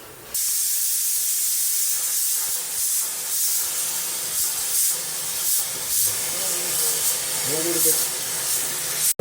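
Sliced onions fry in oil and ghee for an Arabian mutton mandi, giving a steady, close sizzling hiss throughout, with light pan sounds and faint talk in the background.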